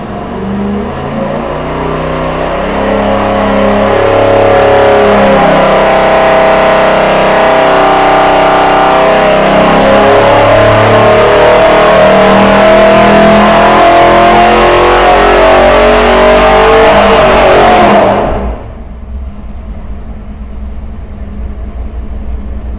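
A 500 cubic inch stroker MOPAR V8 pulls hard on an engine dyno, its roar climbing steadily in pitch for about eighteen seconds before the throttle snaps shut and it drops to a lower rumble, very loud and close.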